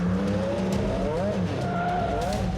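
A gray sports car pulls away after sideswiping a pickup truck, its engine note rising and wavering with some tire noise, heard continuously and close for a couple of seconds.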